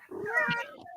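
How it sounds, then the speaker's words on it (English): A single cat meow, close and clear, rising then trailing off in about a second. "I heard a cat."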